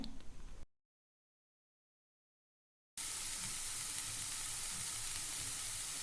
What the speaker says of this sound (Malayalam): അരിഞ്ഞു വെച്ചിരിക്കുന്ന ഇല ഇതിലേക്ക് ഇട്ട് കൊടുക്കാം മേത്തിയ ലീഫാണ് ഉലുവേലയാണ് അതിട്ട് കൊടുക്കാം നന്നായിട്ടൊന്ന് ഇളക്കി യോജിപ്പിക്കാം